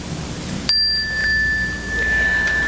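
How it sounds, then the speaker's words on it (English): A single bright chime for mindful breathing is struck once, ringing clear and close, then its pure tones hold and slowly fade in a quiet room. "Let's try it with a chime."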